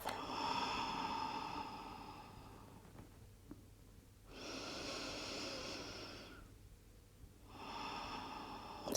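Deep breathing during a yoga child's pose: three long, slow, breathy inhales and exhales, close and quiet, separated by short pauses.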